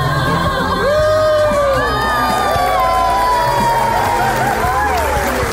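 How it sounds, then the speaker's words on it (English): Crowd on a film set cheering, whooping and shouting over continuous applause, with excited voices rising and falling throughout; loud, dense and close, with children's voices audible in the mix. "that applause was for you, brave Guppy."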